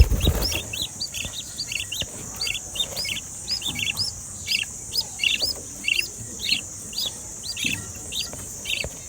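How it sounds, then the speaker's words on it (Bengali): A dove chick calls in a steady series of short, high, repeated chirps at fairly even intervals, close and clear over a faint hiss of background noise. "এটা হচ্ছে আপনার ঘুঘু পাখির বাচ্চাটা আর কি"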